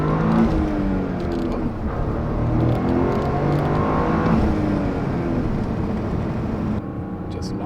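A Toyota GR Corolla drives and accelerates, its engine note a loud, continuous rising whir and drone from inside the cabin, with talk over it.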